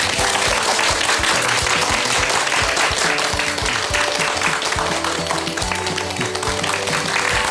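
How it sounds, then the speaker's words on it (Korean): Long, sustained applause from a large audience, a loud continuous roar of clapping that holds steady for the whole stretch without letting up. "박수가 엄청 기네요"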